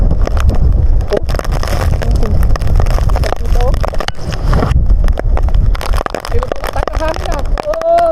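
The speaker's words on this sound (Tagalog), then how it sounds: "Lakas ng hangin." Strong typhoon wind buffets the microphone in heavy, continuous rumbling gusts, with people talking over it throughout, in Chiayi, Taiwan.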